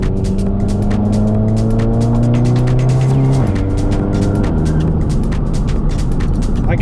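A hybrid-turbo MK7 Volkswagen GTI with DSG and a new exhaust idles with a burbling note, then revs up and drops back, loud and close, with a steady rumble and no talking.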